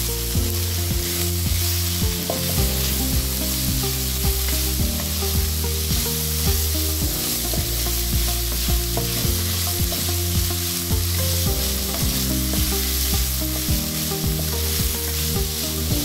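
Bihon rice noodles being stir-fried with oyster sauce and soy sauce, a steady loud sizzle and scrape of stirring in a pan running continuously without talk.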